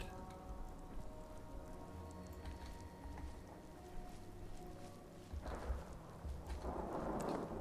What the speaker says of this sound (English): The lightning still scares me, but we're okay for now.